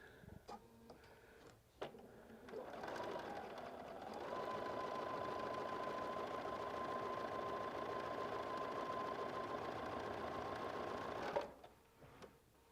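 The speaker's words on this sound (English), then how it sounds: "let me just sit here at the sewing machine, and I'm going to take just a scant 1/4 inch seam allowance" A sewing machine stitches a scant quarter-inch quilting seam, running steadily for several seconds, a fast even mechanical whir with rapid ticking, starting and stopping with a few handling clicks around it.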